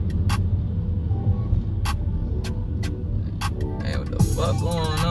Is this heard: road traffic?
yes